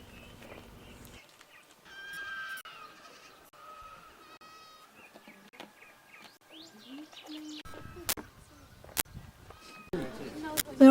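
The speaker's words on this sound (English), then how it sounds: "Keeping goats seems to be the major local occupation" Goats bleat in a village, with several short calls scattered among quiet gaps and other faint sounds, and people talk nearby.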